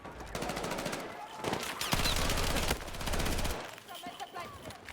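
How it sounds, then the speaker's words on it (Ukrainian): Rapid bursts of automatic gunfire crackle in Battlefield 6 on the Cairo Conquest map, several volleys in quick succession, followed by quieter scattered sounds. "Хоча я почув стрільбу"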